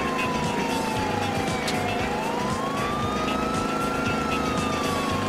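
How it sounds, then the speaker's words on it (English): A police siren wails in slow rising and falling sweeps over a steady rumbling engine-like background, loud and continuous throughout, from a police car in the video game GTA IV. "Josh, you can see a police car."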